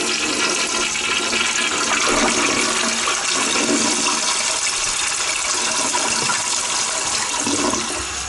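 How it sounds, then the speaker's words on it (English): A toilet in a Hilton hotel room in downtown Atlanta flushes with a steady, loud rush of water that runs continuously for over eight seconds, with no talking. "Do I hear it flushing?"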